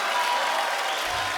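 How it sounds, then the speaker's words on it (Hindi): A studio audience on a comedy talk show applauds the arriving film-star guests with a dense, steady roar of clapping that holds at full loudness throughout. "एक बार जोरदार तालियां आदित्य, वरुण, सोनाक्षी और आलिया के लिए"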